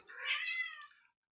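A single cat meow, fairly faint and drawn out for about a second, rising and then trailing off, heard alone with no talk over it.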